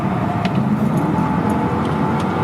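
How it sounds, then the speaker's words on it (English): A Mercedes CLK55 with a non-supercharged V8 drives along, its engine a steady low rumble mixed with road and cabin noise, constant and moderately loud for the whole stretch. "This is my CLK55."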